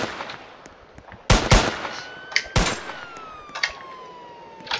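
Loud gunshots in the Roblox video game, a rapid close burst followed by another sharp blast, with a police siren wailing behind them.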